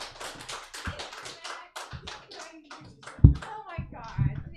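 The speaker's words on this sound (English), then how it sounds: "Keep clapping for Jason" A comedy-club audience at a jam night claps for comedian Jason Mack, with scattered hand claps and taps mixed with chatter and voices talking over them, uneven and fairly close.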